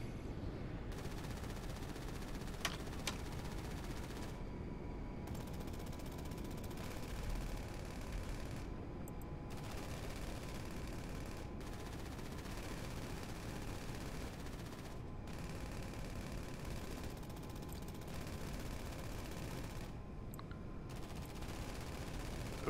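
Steady gunfire in a video game aircraft shootout, with continuous rattling bursts of machine-gun fire at an even loudness throughout, briefly broken by short gaps.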